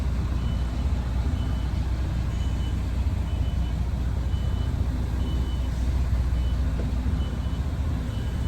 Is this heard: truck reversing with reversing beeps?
yes